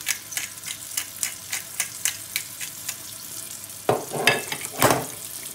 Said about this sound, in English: once the oil's hot, we're going to add a burger. We're gonna pan fry it on both sides